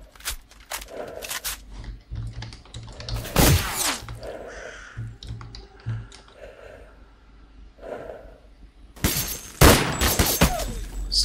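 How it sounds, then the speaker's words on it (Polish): Sharp bursts of gunfire in the video game S.T.A.L.K.E.R.: Call of Pripyat with the Misery mod crack out in a quick cluster early on, then again near the end, loud and close over a dull ambient rumble. "Skąd te strzały docierają?"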